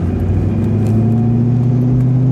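A 2006 Ford GT in Tungsten Silver Grey drives with its engine revving, a loud steady low-pitched drone that holds close and even throughout.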